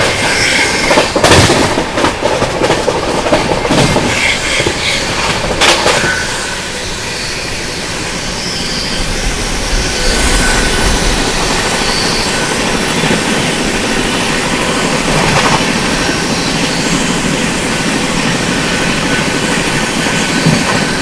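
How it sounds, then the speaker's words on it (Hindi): The Grand Trunk Express rolls into Vidisha railway station, a loud, steady rumble of wheels and carriages with sharp clanks and clicks early on, then a continuous broad roar of the passing train, no voices. "फ़िलहाल अपनी ट्रेन का अराइवल होता हुआ विदिशा रेलवे स्टेशन पे"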